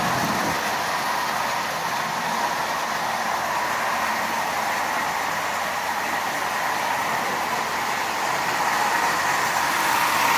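A Marx B&O diesel toy locomotive with a traction tire runs steadily, a continuous close whirring rattle of motor and wheels that holds an even level throughout.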